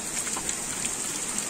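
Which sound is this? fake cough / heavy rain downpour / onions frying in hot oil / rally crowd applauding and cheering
heavy rain downpour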